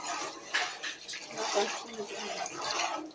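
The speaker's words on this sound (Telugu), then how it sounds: "శనగపిండి కలుపుకున్న వాటర్ని మనం వేసుకుందాం అందులోకి" Gram flour mixed with water is poured into boiling chutney, giving a steady close splashing, bubbling pour with faint background talk.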